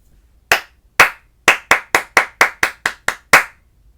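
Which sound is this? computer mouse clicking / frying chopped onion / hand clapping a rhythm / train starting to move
hand clapping a rhythm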